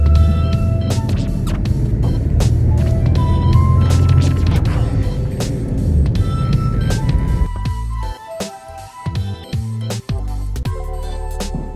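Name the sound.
car driving on road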